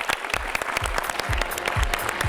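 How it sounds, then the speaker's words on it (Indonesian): Studio audience applauding on an Indonesian television talk show, a dense, steady burst of clapping from a crowd that fills the whole short stretch without any speech. "kasih tepuk tangan sekali lagi untuk ratu sampah kita"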